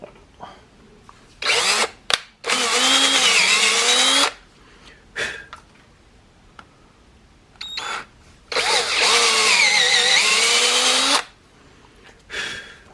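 A Sears Craftsman drill press bores a hole, whirring up loud in two long bursts and a few shorter spins, each stopping abruptly, with quiet gaps between.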